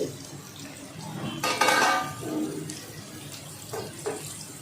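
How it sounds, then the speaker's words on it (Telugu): Onions and green chillies being stirred in a frying pan, with metal spoon scrapes and clinks against the vessel, a louder burst of clattering midway and lighter taps toward the end, no talking. "ఉల్లిపాయ పచ్చిమిరపకాయ అనేది ఫ్రై అయ్యేంత వరకు మనం తిప్పుకోవాలండి"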